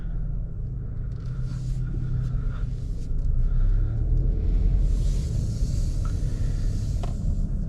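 Steady low engine and road rumble from a 2026 Nissan Rogue SUV on the move, heard from inside the cabin, continuous and fairly loud with a swell midway and no talking.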